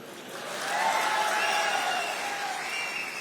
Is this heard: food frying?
no